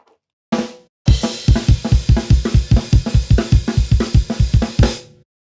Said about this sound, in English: That would be what's referred to as a D beat, classic D beat